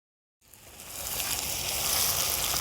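Potatoes sizzle and fry in hot oil with chopped onions for a Gujarati spinach-potato dish, a steady loud crackling hiss rising in as they hit the pan and holding close and constant.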